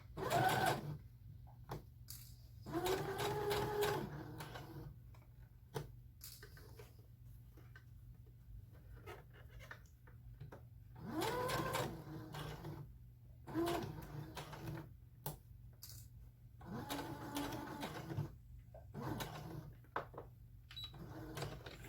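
Sewing machine basting fabric for a doll backpack, stitching in several short bursts of rapid whirring clatter separated by quiet pauses, close and fairly soft.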